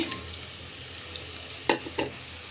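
Large onion pieces fry in hot oil with mustard seeds, giving a steady low crackle broken by two short utensil clacks near the end.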